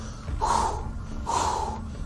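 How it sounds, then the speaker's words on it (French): Two deep, audible breaths, an inhale and exhale repeated twice at a slow, even pace, taken close up as a breathing exercise before a take. "Et c'est de la respiration aussi."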